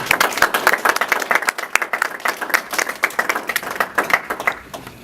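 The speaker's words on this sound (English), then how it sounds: "a round of applause" Audience at a speakers' forum clapping steadily, dense rapid applause from a modest crowd that holds for several seconds and then begins to thin.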